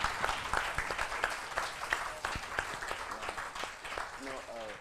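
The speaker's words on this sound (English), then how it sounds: "So can we have a round of applause?" Conference audience applauding at a business event on work and workspaces; steady crowd clapping with sharp individual claps, moderately loud, while voices murmur and a speaker talks over it near the end.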